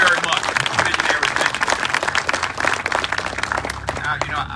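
A crowd claps steadily at a ribbon cutting ceremony for Todd School in Aurora, Illinois, with dense, even applause running throughout and voices mixed in.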